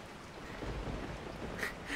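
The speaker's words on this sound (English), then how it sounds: "Oh, it's raining now." Rain falling in the video game Resident Evil 4: a steady, moderate hiss of rainfall throughout, with a couple of brief brighter splashes near the end.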